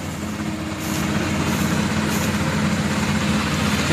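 A small Kubota DC35 combine harvester engine runs at a steady, loud diesel drone that swells slightly after the first second, with a low rumble throughout and no voices.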